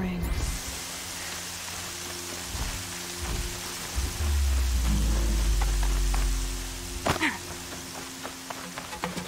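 Rain and thunder from a storm in the video game Horizon Zero Dawn: a steady hiss of rainfall with a deep rolling thunder rumble swelling in the middle, plus a few sharp cracks near the end.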